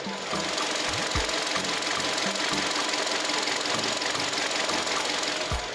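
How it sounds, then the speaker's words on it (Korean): An LPG car engine idles steadily up close, a continuous mechanical hum with a faint rhythmic ticking running underneath, no voices. "자 엔진 소리 한번 들려 드릴게요"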